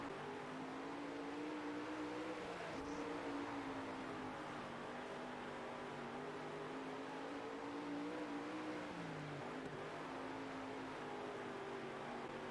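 Dirt race car engine drones steadily in World of Outlaws: Dirt Racing, a continuous loud rasping roar with shifting pitch as the car slides through a career-mode race, no voices present.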